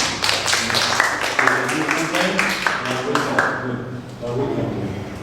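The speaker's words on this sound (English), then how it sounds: "New student. Clap for her, please." A classroom of students claps to welcome a new student, a short burst of scattered, uneven claps near and fairly loud, with voices mixed in.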